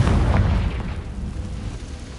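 Fiery Confringo spell explosion in Hogwarts Legacy: a single heavy, close boom with a deep rumbling tail that fades over a couple of seconds.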